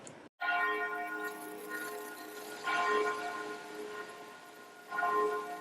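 Church bells ring in the old town square of Krakow, a steady resonant peal with strikes swelling at intervals over faint outdoor ambience, heard at a distance with no talk.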